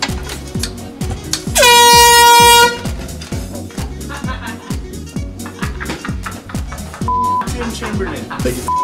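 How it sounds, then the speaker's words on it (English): One loud, sustained air horn blast cuts in over a thumping, rhythmic music track, then gives way to the beat and a brief beep. "I take the air horn and I tape it underneath"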